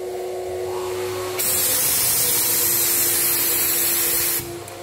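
Graco 9.5 Pro Contractor HVLP Edge 2 Plus spray gun spraying paint, a loud, steady close hiss lasting about three seconds over the constant hum of the turbine, which runs before and after the spray.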